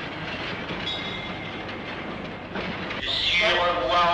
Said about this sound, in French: et le train qui attend, nous invitant au voyage